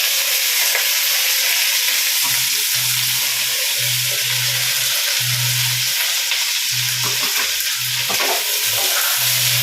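Cubed capsicum and onion fry with a steady close sizzle while a utensil stirs them around the pan, repeated scraping strokes breaking through the hiss.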